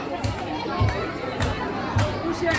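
Audience members at a holiday park show clap in time, several evenly spaced claps over a steady crowd murmur and chatter.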